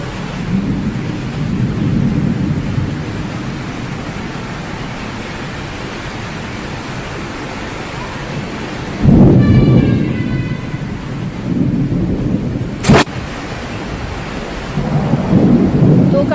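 A thunderstorm in Uttar Pradesh brings steady, loud rain with rumbling thunder that swells several times, including one sharp crack near the end. No one speaks.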